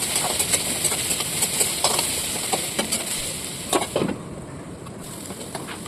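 Onions, green chillies and garlic frying under a lid in a covered pan for chicken kosha, giving a steady close sizzle with faint crackles and a few brief clinks, then quieting slightly toward the end.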